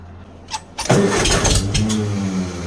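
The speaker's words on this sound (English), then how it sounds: "That was an absolute heck of a backfire that just came out of there." An old tractor cranks over in cold weather at about 13 degrees with little choke. It catches with a sharp, loud backfire bang, then settles into a rough, steady engine running close by.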